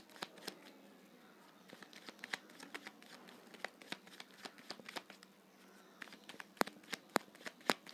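Tarot cards are shuffled and drawn close up with quiet riffling and sharp snapping flicks, irregular and busy throughout at a soft overall level.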